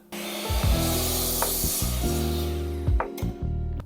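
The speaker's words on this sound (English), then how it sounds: "Now I just cut this MDF." A power saw cuts through an MDF board, starting abruptly into a loud, sustained motor whine with a rasping cut, dipping and surging as the blade works through the board, with no talking.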